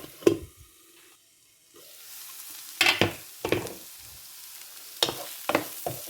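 Onions sautéing in a pan for a prawn and potato stir-fry, bursts of sizzling and scraping stirs separated by quieter gaps, including one near-silent pause.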